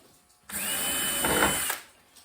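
A power drill drives a screw into an antique veneer cabinet in one continuous whirring burst of a little over a second, close and loud, with quiet before and after.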